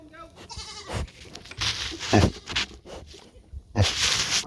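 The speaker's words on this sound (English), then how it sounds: "I'm gonna let the goats out" Several goats bleat in loud, overlapping bursts close by, with a few short calls spaced across a few seconds.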